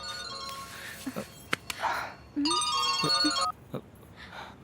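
An electronic phone ringtone plays in two bursts of steady tones, with brief clinks and soft movement noises between them.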